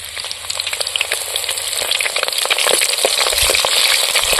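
Green chillies dropped into hot oil for a sour greens chicken curry, a crackling sizzle that starts with sharp spitting pops and swells into a louder continuous fry, close up with no voices.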